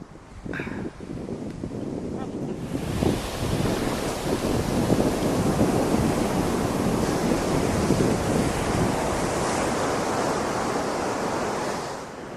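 Ocean surf rolling onto the beach at Cape Lookout National Seashore on South Core Banks, a broad roaring wash that swells and stays loud and steady, with some wind rumble on the microphone.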